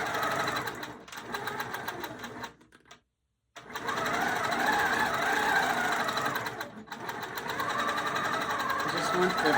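A sewing machine runs fast and loud while quilting a feathered heart, its steady mechanical whir briefly cutting out and then resuming, with a voice talking over parts of it.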